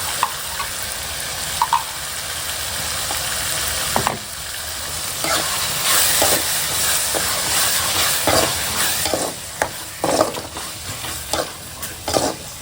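Ground coconut paste hitting hot oil in a pan, a steady hiss and sizzle with occasional spoon clatter and stirring knocks, close and fairly loud, no one talking.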